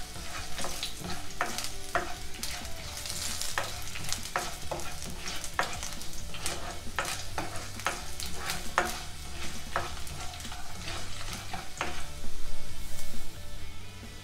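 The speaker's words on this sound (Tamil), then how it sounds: "இதையும் நல்லா வதக்கிக்கலாம்." Mushrooms sauté in a kadai, with a steady sizzle under repeated scraping and stirring strokes of a spoon against the pan, loud and close throughout.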